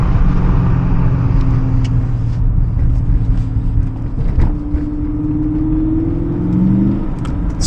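BMW M5 with a 5.0L V8 and six-speed manual revving close by, a loud sustained engine drone with rising and falling pitch and a clear rev swell near the end, with no talking.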